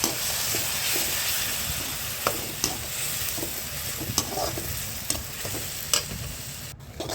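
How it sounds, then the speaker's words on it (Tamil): Tomatoes and ground seed paste sauté in a pan for a sardine curry: a steady, close sizzle with scattered scraping taps of stirring throughout, ending in a brief cut. "இந்த வதங்கின உடனே நம்ம அரைச்சி வச்ச விதையும் சேர்த்து நல்லா வதக்கிக்கலாம் நல்லா வதங்கட்டும்"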